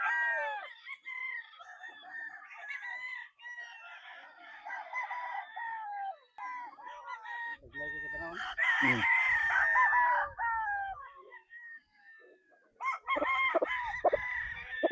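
Several roundhead cross gamecock roosters crow at a game farm, overlapping calls rising and falling close by, with clucks and brief scuffling noises mixed in; a voice speaks briefly amid the birds.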